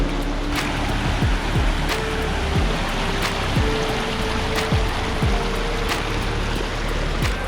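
Water pours steadily over a waterfall, a dense, continuous rushing close by with no voices, the roar holding level throughout.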